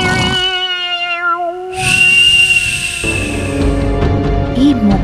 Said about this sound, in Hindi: सीटी सी सुन गई ना मने